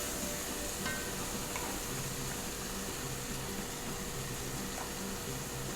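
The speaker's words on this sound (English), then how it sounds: "I'm going to just cover the pan now and let the jackfruit cook now" Jackfruit sabzi cooks in a covered pan, a soft, steady sizzle and hiss with faint occasional ticks, low and unbroken throughout, with no voices.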